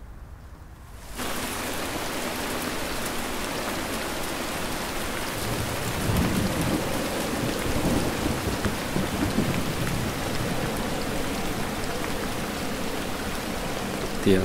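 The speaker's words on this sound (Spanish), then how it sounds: "Está lloviendo." Steady heavy rain pours down with rumbling thunder swelling in the middle, a dense continuous wash of falling water hitting surfaces, loud and close, after a brief quieter opening moment.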